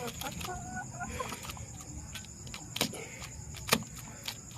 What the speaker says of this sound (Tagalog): Inahin yan guys.